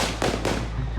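Gunshots ring out outdoors in Kenosha, two sharp booming cracks in quick succession over a dense, noisy background, loud and close with no speech.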